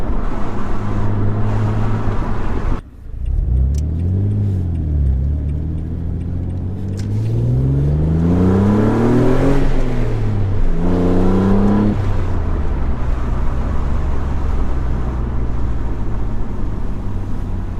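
A collectible car with a slightly louder-than-standard exhaust revs up close, rising in a couple of swelling sweeps and dropping back to a steady idle.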